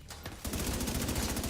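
Video game gunfire cracks in a quick rapid burst of automatic shots after a brief softer start, close and loud with no talking.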